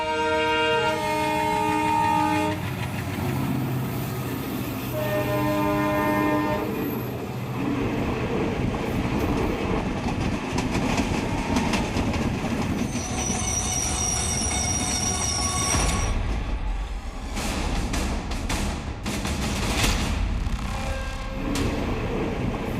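A train runs along a railway track in India, loud and close, with screeching wheel squeal, rolling rumble and clattering carriages throughout, while a high metallic whine rises in the middle section.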